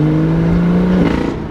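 A wrecked BMW M2 holds a close, loud rev with its engine note steady. Then the throttle is released and the sound drops away into a fading, burbling idle.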